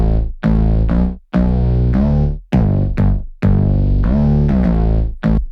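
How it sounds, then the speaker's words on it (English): Slidey synth bass patch with a pitch envelope, built in Logic, playing a run of sustained buzzy notes that bend and swoop in a womping rhythm, loud and alone with short gaps between phrases. "So it's real slidey. Womp, womp, womp. A bit of a pitch envelope thing happening."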